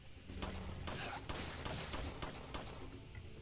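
Gunfire in Resident Evil 4, a string of loud, closely spaced shots over dense continuous game noise, with a few sharper bursts standing out.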